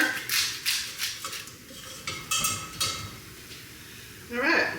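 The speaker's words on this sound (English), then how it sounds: "toss the pasta in and give it a stir" Pasta is tossed into a pot and stirred, with several soft scraping knocks and clinks of a utensil against the pot at an uneven pace. A short rising sound comes near the end.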